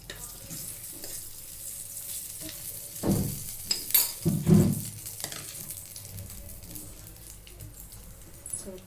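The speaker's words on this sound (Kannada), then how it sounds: "ಏಲಕ್ಕಿ 1, 2 ಚಕ್ಕೆ, 1-2-3 ಲವಂಗ, ಕಸ್ತೂರಿ ಮೇಥಿ ಇಷ್ಟು ಹಾಕ್ಕೊಂಡು ಫ್ರೈ ಮಾಡ್ತೀವಿ" Whole cardamom pods, cinnamon sticks, cloves and dried kasuri methi fry in hot oil in a pan, giving a steady soft sizzle with a few louder stirring scrapes and clatters in the middle, no voices.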